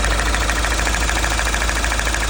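A Mahindra Scorpio N engine idles with an abnormal knocking fault, producing a loud, close, continuous rumble with a rapid repetitive tapping pulse running through it, no voices over it.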